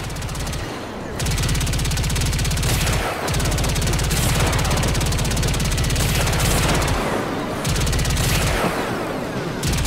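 Sustained automatic gunfire from the Warframe video game during the Fomorian threat mission, dense rapid bursts nearly continuous across the clip with short gaps, loud and close, mixed with game effects.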